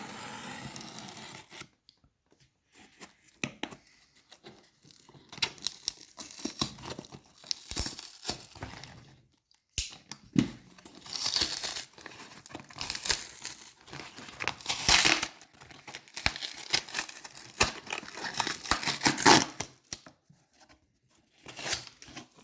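Crinkling and tearing of paper and cardboard as a box of bank-wrapped half dollar coin rolls is opened, in bursts of close rustling and ripping that run on and off with short pauses.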